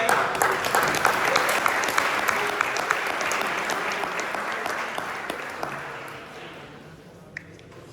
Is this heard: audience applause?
yes